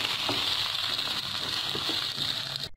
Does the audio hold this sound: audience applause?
no